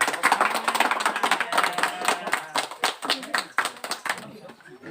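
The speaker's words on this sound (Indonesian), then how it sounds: "Tepuk tangan" A group of Scout members at a Pramuka gathering clap their hands together, sharp rhythmic claps close by that fade out near the end, with a voice briefly audible between them.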